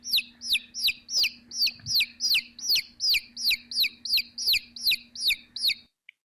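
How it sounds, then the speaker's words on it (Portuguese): A recorded chick cheeps in a steady run of about fourteen sharp, evenly spaced peeps, each falling in pitch, loud and close, with a faint steady hum beneath that stops just before the end. "é exatamente o som de um pintinho"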